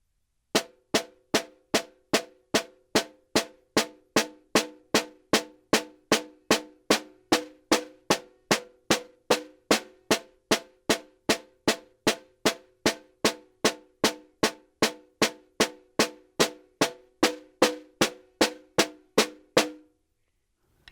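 Slow, evenly spaced snare drum tap strokes in a single steady stream, about forty crisp, moderately loud hits played alone with no talking, practiced as a stick exercise.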